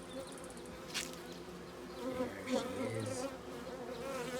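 Honeybees at an open hive buzz around a phone held close by, with several nearby insects whining and droning steadily. A person speaks briefly under the buzzing.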